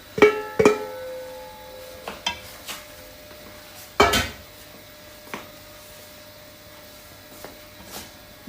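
Softened dates are stirred and mashed in a metal pan with a spoon, giving a series of sharp scraping clinks and knocks, clustered early and then sparser and fainter, with quiet gaps between strokes and no talking.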